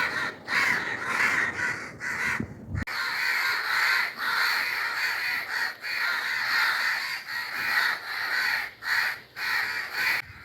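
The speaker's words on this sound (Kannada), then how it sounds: "ಎಲ್ಲ ಮೇಲೆ ಕುತ್ಕೊಂಡು ಮೀಟಿಂಗ್ ನಡೆಸ್ತಾ ಇದ್ದಾವೆ ಒಂದು ಕಾಗಿ ಕೂಡ ಕೆಳಗೆ ಬಂದು ತಿಂತಾ ಇಲ್ಲ" A large flock of crows perched up high caws over and over in a dense, overlapping chorus, loud and near, filling the whole stretch with a few brief gaps.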